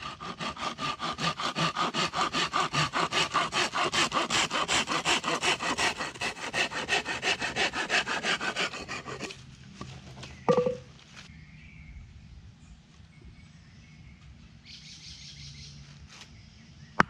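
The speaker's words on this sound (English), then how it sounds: "this is where we are going to rub our shorter piece of bamboo against. That is what is going to create friction and heat." Bamboo fire-saw in use, a short piece of bamboo rubbed hard back and forth across another, giving a steady loud rhythmic rasping for about nine seconds before stopping, followed by a brief knock and quiet handling.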